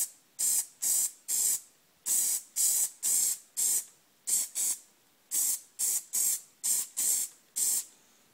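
An aerosol can sprays Plasti Dip rubber coating onto a Chevy emblem in a series of about sixteen short, sharp hissing bursts, close and fairly loud, in a loose steady rhythm with brief gaps between passes.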